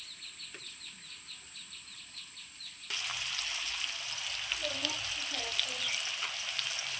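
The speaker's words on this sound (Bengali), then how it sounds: "আমি কাঁকরোলটা খুব সুন্দর করে ভেজে নিচ্ছি" Pointed gourd (kakrol) frying in oil with salt and turmeric gives a steady close sizzle throughout, with a few faint clinks and a bird calling softly in the background.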